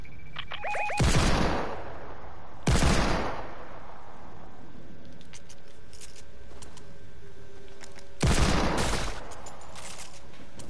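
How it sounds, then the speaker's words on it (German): Gunfire in an online video game near a pirate camp, three loud sharp shots spaced a few seconds apart with decaying tails, over quiet game ambience. "Von da kommen jedenfalls die Schüsse."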